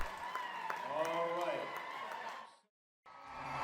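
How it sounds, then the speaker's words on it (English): A crowd at the Scottsdale Arabian horse show liberty run finals applauds a handler and horse after their run, steady broadband clapping and cheering under a talking voice, then a brief drop to silence before the crowd noise resumes. "So they get a big hand from the crowd."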